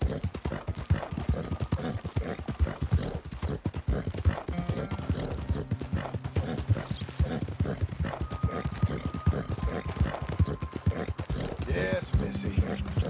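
Horse hooves clip-clop steadily in Red Dead Redemption 2, a continuous close trotting rhythm under in-game sounds and a voice speaking, with a brief whinny-like tone.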